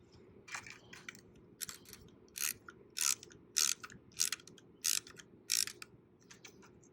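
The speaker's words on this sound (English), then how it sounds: "This is your 1/2 inch ratcheting wrench." A 1/2 inch ratcheting wrench turned in short strokes while fitting a weather station radiation shield: about eight crisp, clicking ratchet bursts in a steady rhythm, close and clear against a quiet background.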